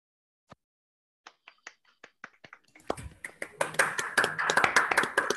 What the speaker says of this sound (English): I am clapping on behalf of the attendants.